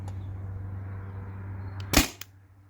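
A Tippmann TiPX paintball marker on CO2 fires in a lone sharp pop near the end, followed by a fainter click, over a steady low hum; the marker is close and loud.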